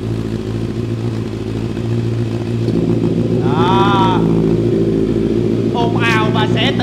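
A Honda CBR650R motorcycle with its exhaust baffle pulled out, idling loud and close with a deep rumble, then revving in short bursts; someone speaks briefly over the engine.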